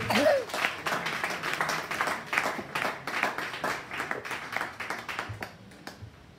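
A church congregation claps steadily and loudly, a dense, continuous patter of many hands with a brief voice at the start, the applause thinning slightly toward the end.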